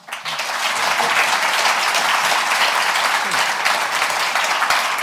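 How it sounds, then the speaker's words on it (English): An audience breaks into loud, sustained applause, dense clapping that holds steady for several seconds after a quick start. "So big hand to the guests."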